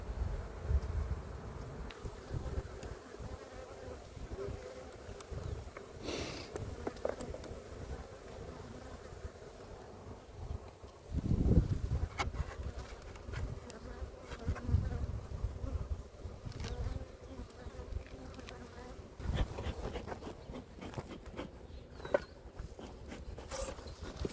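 Honeybees buzzing steadily around an open hive during an early spring inspection, a dense close drone that lasts throughout with a brief louder burst near the middle.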